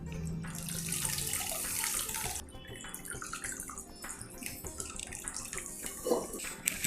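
A tumbler of water is poured into a cooking pan, giving a splashing, gurgling rush followed by scattered drips and trickles. The pour is fairly quiet and close, with no talking.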